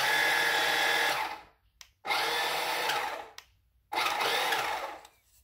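Small electric motor of a 1/10 scale Aston Martin RC car whining up in three separate bursts, each rising sharply, holding briefly, then cutting off into near silence.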